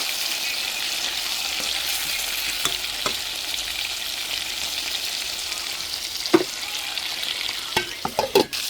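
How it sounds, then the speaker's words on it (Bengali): Meat frying in oil in a pan over low gas, a steady close sizzle throughout with a few sharp spatters and stirring clinks near the end; no talking. "মাংস ভাজা হয়ে গেছে, খুব সুন্দর করে ভেজে নিয়েছি।"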